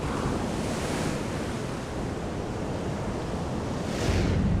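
Ocean waves break steadily along the Peruvian coast in a dense, continuous roar of surf with wind noise, swelling louder near the end and with no voices.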